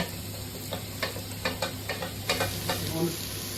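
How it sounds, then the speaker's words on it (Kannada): Chopped tomatoes go into a pan of curry leaves and liquid for egg fried rice, making a soft, steady sizzle with a string of distinct stirring scrapes and taps close by. "ನಾನು ಟೊಮೆಟೊ ಕೂಡ ಆ್ಯಡ್ ಮಾಡ್ತಾ ಇದ್ದೇನೆ."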